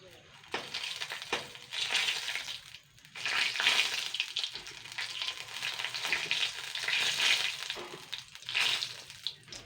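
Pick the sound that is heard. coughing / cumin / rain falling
cumin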